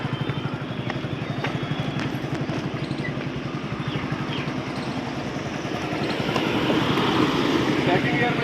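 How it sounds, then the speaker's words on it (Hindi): A motorcycle riding in second gear without revving hard: a steady, close engine drone with even pulsing that swells slightly toward the end. "सेकंड गियर में भी बाइक मेरी जा रही है"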